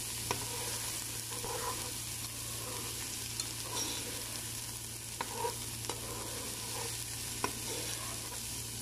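Chicken, onion and green pepper frying in a little oil in a pan for a Saudi eggplant stew, with a steady close sizzle throughout, occasional stirring knocks and scrapes, and a low hum underneath.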